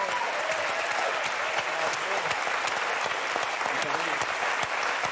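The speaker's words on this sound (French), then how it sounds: "Rocky, applaudissez le guitariste." An audience applauds a guitarist on a French television show, steady dense clapping filling the whole stretch, with faint voices beneath.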